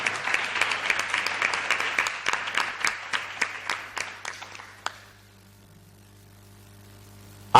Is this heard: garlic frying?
no